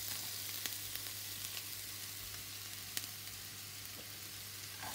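Chopped onion sizzles steadily in olive oil in a frying pan, a continuous faint hiss with scattered small pops and crackles, and a low hum sits underneath it.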